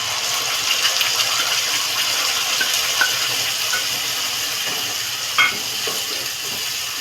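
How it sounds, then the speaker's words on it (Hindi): Thick ground tomato, onion, garlic, ginger and chili masala sizzles and spits steadily in a hot pan, with occasional scraping and clinks of a spoon stirring it. "इसे अच्छी तरह से फ्राई करना है, चला चला के, जब तक कि मसाला अच्छे से भून ना जाए।"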